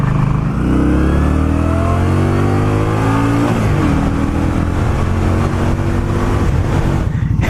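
A motorcycle with stock exhaust pipes revs up close and loud, its engine pitch climbing and then settling into a strong, steady drone.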